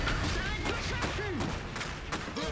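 Gunfire from the World War I mech strategy game Iron Harvest crackles in quick scattered bursts, fairly faint beneath a player's voice and game effects.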